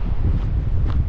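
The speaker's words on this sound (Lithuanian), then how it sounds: "Vėjelis." Wind at the seashore, by houses right on the shore under a morning sky, buffets the microphone in a low, rough, continuous rumble, loud and close, with no talking.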